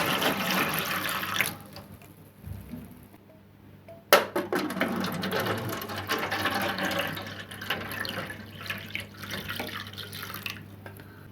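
Water poured into the last bowl of a simple radiator humidifier at home, a close splashing trickle that pauses briefly then resumes as a steady filling gurgle until the end.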